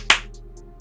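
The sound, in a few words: single low clap sound effect played back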